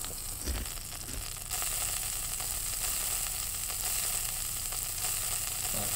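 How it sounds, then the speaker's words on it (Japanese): Meat sizzles on a grill in the video game Yakiniku Simulator, a steady close frying hiss that continues without pause and grows slightly louder partway through. "どういうゲームかというと、この焼肉焼くだけです。"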